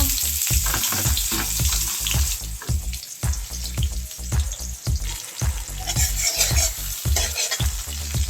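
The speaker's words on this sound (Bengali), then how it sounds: "কড়াইতে একটু সরি তেল দিলাম এক টেবিল চামচ পেঁয়াজ পেঁয়াজ কুচি দিচ্ছি" Chopped onion fries loudly in mustard oil in a wok, a close crackling sizzle broken by rhythmic scraping strokes of a spatula about twice a second.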